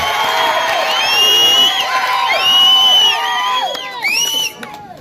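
A crowd at a political rally in Nellore city cheers, whoops and shouts continuously, with many overlapping high voices rising and falling in loud waves before tapering off near the end.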